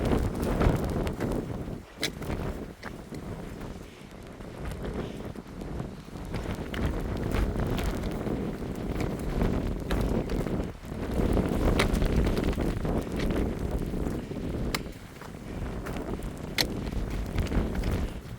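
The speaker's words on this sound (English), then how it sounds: "Wind's picking up. Really feel it pushing you." Strong wind buffets an exposed mountain ridge on the Bigelow range of the Appalachian Trail, roaring steadily against the microphone in loud, gusty surges, with occasional rustling and footstep-like thumps beneath it.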